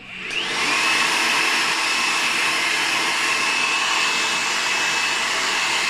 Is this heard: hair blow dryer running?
yes